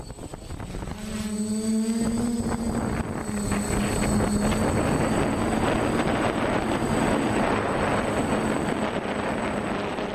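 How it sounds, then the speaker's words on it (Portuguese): Small unmanned drone buzzing like a miniature helicopter, a steady loud rotor drone that rises in pitch as it spins up in the first seconds, then holds a dense continuous whir with wind rumble. "Esse som característico de equipamentos aéreos como um avião ou um helicóptero de pequeno porte também é uma marca de um veículo não tripulado"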